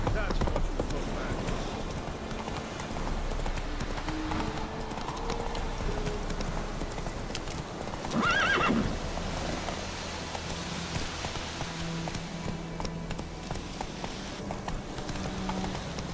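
Horse in the video game The Witcher 3, clip-clopping hooves at a steady running rhythm alongside a brief neigh, with talking over the top.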